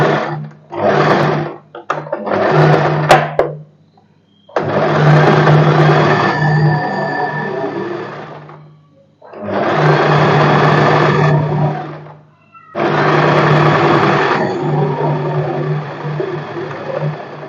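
A sewing machine stitches right along the edge of a fold on a padded princess-cut blouse. Several short runs come first, then three long, steady bursts of close, loud motor whirring separated by brief pauses.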